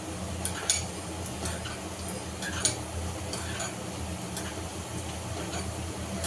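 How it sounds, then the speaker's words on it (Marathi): Cashews roast in hot ghee with a soft, steady sizzle, broken by a few light clicks and scrapes of stirring in the pan, close and fairly quiet. "जरा लालसर परतून घ्यायचं काजू"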